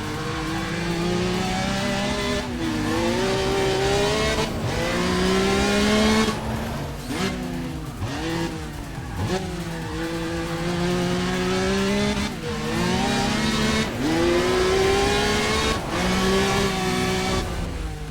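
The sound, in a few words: car engine racing in Need for Speed ProStreet video game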